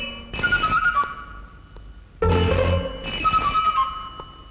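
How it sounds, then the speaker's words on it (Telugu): A telephone rings in bursts in an old Telugu film scene, with three loud electronic ring tones separated by brief pauses and no talking over them. "ఏమిటి సార్ ఫోన్ తీయడానికి భయపడుతున్నారు"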